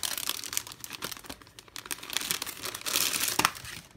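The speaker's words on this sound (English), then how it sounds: "Again, sorry for all the crinkling." Plastic packaging crinkles and rustles steadily while treat bag toppers are unwrapped, close and fairly loud, with bursts of sharper crackling and one especially dense stretch near the end; no one speaks.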